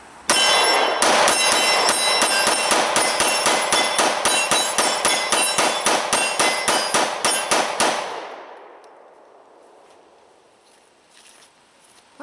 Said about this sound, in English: thought we'd just do a mag dump with that just for the heck of it